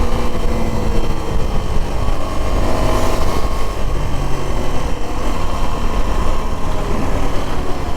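Suzuki V-Strom 250 SX motorcycle riding on a highway in third gear, a steady droning engine hum with a constant rush of wind noise, loud and unbroken throughout.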